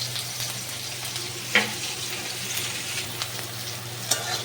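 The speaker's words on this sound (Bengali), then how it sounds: "তো ঘিটা দেওয়ার পরে গরম হয়ে গেছে, এখন দিয়ে দিয়েছি পেঁয়াজ কুচি, আর দেব কাঁচা লঙ্কা কুচি।" Chopped onion and green chili fry in hot ghee, a steady close sizzle with a soft stir and a couple of small pops, no talking.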